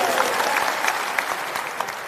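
Hearty applause fills an auditorium at a state-level political party workshop in Patna, a steady dense crackle of many hands with a few sharper claps standing out.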